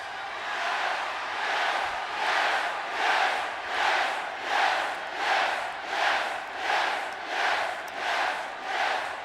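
A packed wrestling arena crowd at the 2014 Royal Rumble chants in a loud, steady rhythmic pulse, roughly one surge per second, sustained as a dense roar with no clear speech on top.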